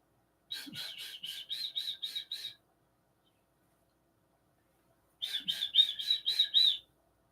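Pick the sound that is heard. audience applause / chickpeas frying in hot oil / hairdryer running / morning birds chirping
morning birds chirping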